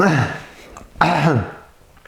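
A voiced throat-clearing rumble comes twice, a short one at the start and a stronger one about a second later, close and fairly loud.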